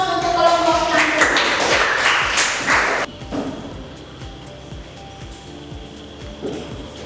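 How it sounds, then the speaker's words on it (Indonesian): Classroom applause for a group of students after their presentation, a burst of clapping from many hands over the first three seconds, then thinning to scattered claps and chatter. "kita berikan aplaus untuk kelompok yang kedua"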